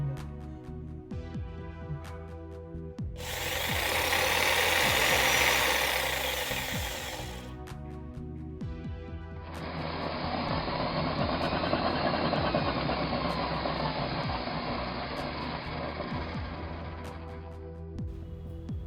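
An IBELL 650W electric jigsaw (800-3000 rpm) runs in two separate bursts, each a loud buzzing motor whine lasting several seconds, with quieter mechanical hum and clicks between and around them.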